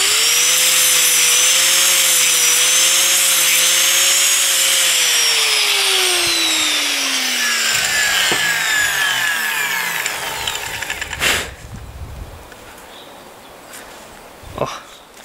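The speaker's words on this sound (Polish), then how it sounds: "Szlifierkę kątową pod ręką, także możemy to wyrównać trochę." Angle grinder used to level the wooden handle of a self-splitting axe: a loud whining tool that winds down as the motor slows, then a few brief scraping knocks of wood at close range.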